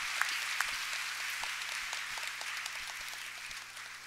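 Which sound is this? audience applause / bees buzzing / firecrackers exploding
audience applause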